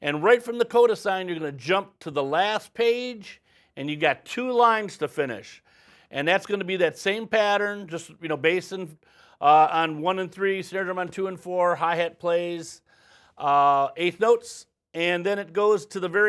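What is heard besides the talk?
No everyday noises stand out.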